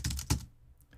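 Quick, faint clatter of a few keystrokes on a computer keyboard, close by with no talking.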